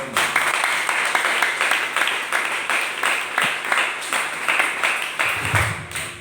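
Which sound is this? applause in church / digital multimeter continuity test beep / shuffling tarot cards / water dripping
applause in church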